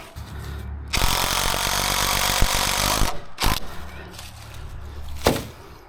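A power drill drives screws into treehouse wood in a loud sustained whir of about two seconds, followed by short bursts and a couple of brief trigger pulls, close by.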